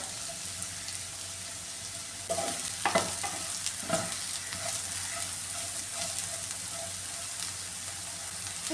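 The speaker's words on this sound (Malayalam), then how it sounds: "എല്ലാം നന്നായിട്ടൊന്ന് ഫ്രൈ ആയിട്ടുണ്ട്" Chinese potato (koorkka) stir-frying in a pan, a quiet sizzle with a few spatula scrapes and stirs, near but soft.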